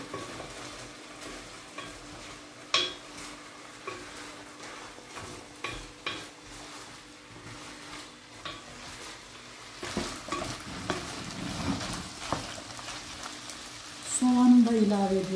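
Potatoes sauté in a pan for a chicken-skin chicken sauté dish, a soft continuous sizzle broken by scattered scrapes and taps of stirring, building louder near the end, with no voices.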